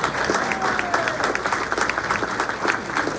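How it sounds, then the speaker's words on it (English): A room full of people at a Rotary breakfast meeting keeps up steady applause throughout, even and dense, with no voices rising above it. "Yeah, you can applaud."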